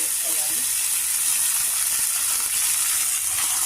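Chopped tomatoes fry in hot tempering oil for a brinjal curry, with a constant bright sizzle and hiss that holds steady close by.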